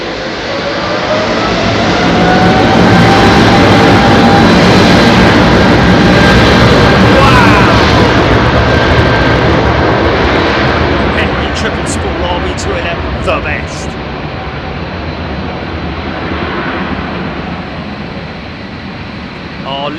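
Airliner jet engines roar loudly at Heathrow Airport, a sustained broadband thunder that swells early and slowly fades as the aircraft moves off, leaving a quieter whine and hiss toward the end.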